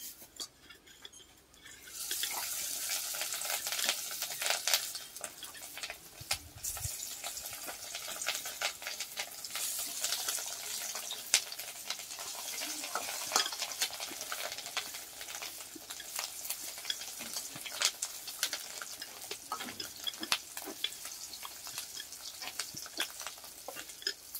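Steady hiss and crackle of fish roe fritters frying in oil, close and continuous, with occasional clinks of a utensil and small pops; no talking.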